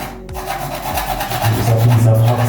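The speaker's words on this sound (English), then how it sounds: "so I'm going to use a piece of hacksaw blade" A short piece of hacksaw blade worked by hand while installing a shower drain, giving a close, loud, continuous rasping scrape with uneven strokes and no voices.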